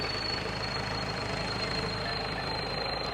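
A 120 hp tractor engine, a modified Holland, runs steadily at close range, a continuous low rumbling drone with a faint high whine above it and no talk.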